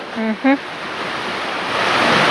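Water at a mountain lake makes a steady, loud rushing wash that swells slightly toward the end, near and continuous, with two brief tonal beeps near the start.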